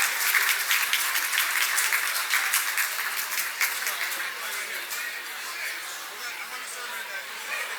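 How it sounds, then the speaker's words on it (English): A large crowd at a charity gala dinner in New York City breaks into sustained applause, a dense, loud wash of clapping that holds steady and then slowly tapers off, with room chatter mixed in. "A round of applause, and we are off"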